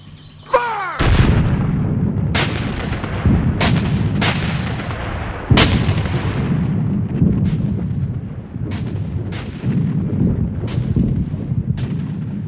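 A line of Confederate infantry fires rifle volleys, each a sharp, loud crack with a booming tail. Several volleys repeat at uneven intervals of one to two seconds over a continuous rumble of battle.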